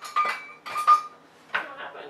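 A big spoon clinking against dishes while serving beans for hummus, three short bright metallic chinks in quick succession, close and moderately loud.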